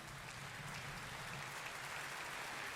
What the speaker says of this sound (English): Who's clapping?